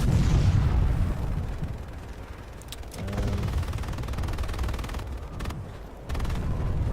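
Bursts of gunfire and booming explosions in the video game Planetside 2 crack out at varying distances, some sharp and close, others dull and far, over a rumbling background.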